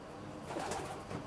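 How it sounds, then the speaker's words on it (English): Racing pigeons in a widowhood loft section give soft, steady cooing that runs through the short stretch, close and fairly even in level, with no one speaking. "This is a scene inside one of Tony's widowhood sections."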